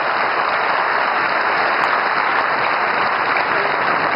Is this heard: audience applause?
yes